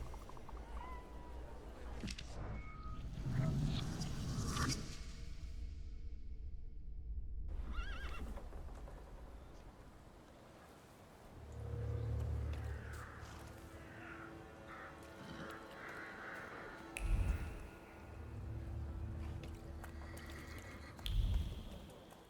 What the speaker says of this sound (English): I meant to take the horse out for a ride, so get on.